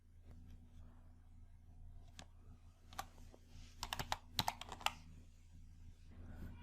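Typing on a computer keyboard while working in Microsoft Excel, heard as faint, sparse key clicks that cluster into a short burst midway, over a steady low hum.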